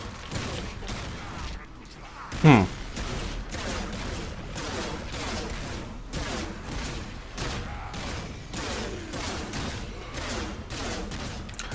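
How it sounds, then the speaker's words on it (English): Rapid bursts of gunfire from weapons in the Warframe video game, a steady stream of shots throughout with one louder impact early on, close and continuous. "So you're going to fire, and your bullets are not doing what I expected."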